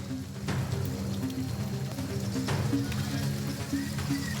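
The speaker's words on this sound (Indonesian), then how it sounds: "hujan deras juga mengguyur wilayah Kota Tangerang sejak sore hingga malam hari" Heavy evening rain pours over Tangerang, Banten, as a dense, continuous hiss of drops striking surfaces, steady throughout, with a low droning hum underneath and no voices.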